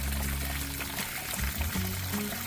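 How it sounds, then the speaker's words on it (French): Water trickling and pouring at a trail water source on the Appalachian Trail, a close, steady splashing flow that fills the whole moment with no voices. "Voici ma source d'eau pour cet après-midi."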